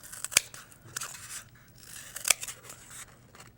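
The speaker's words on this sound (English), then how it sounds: "I'm using a good pair of scissors to cut the foam core" A good pair of scissors snipping through foam core craft board, two sharp crisp cuts close up with quieter rustling between, no voices.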